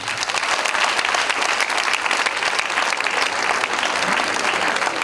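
A concert audience applauds the singer, a dense, steady wash of many hands clapping that holds at an even, loud level throughout, with no voice rising above it.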